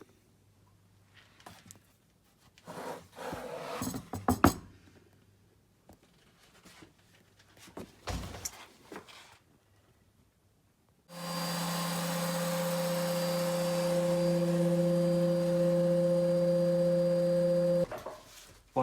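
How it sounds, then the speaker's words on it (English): Router table trimming the edge of a resin guitar body with a honeycomb matrix top, a loud steady motor whine with strong tones running for about seven seconds alone, preceded by quieter handling knocks and scrapes. "All set to go on the router table."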